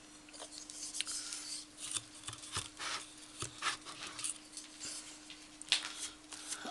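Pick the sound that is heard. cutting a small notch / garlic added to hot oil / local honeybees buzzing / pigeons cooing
cutting a small notch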